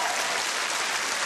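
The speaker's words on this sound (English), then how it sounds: "Give him a round of applause." A studio audience on a dating show applauds, a brief, dense wash of clapping from a large crowd, loud and even throughout.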